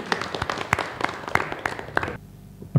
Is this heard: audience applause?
yes